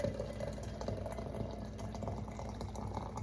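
Hot water for black tea pours steadily into a cup, a continuous close splashing rush with no voices.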